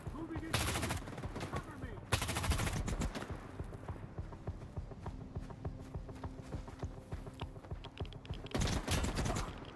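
Gunfire bursts in the shooter S.T.A.L.K.E.R. 2: Heart of Chornobyl at night, loud automatic volleys at the start and near the end with scattered shots and footsteps-like clatter between.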